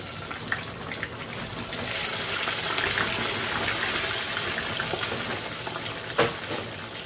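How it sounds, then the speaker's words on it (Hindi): French fries deep-frying in a kadhai of hot oil over high heat, a steady dense crackling sizzle throughout with a few brief stirring clinks, no voices. "फ्राइज जो है वो तेज आंच पर चीज़ी पक रही है"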